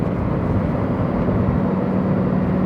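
A Lamborghini Huracán Sterrato's V10 engine roars in a continuous, loud, low drone heard from inside the car, steady in pitch and level with no talk over it.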